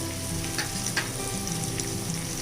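Spices with turmeric sizzle and fry steadily in a pan over a low flame for palak paneer, a continuous close hiss with faint stirring scrapes and no talking.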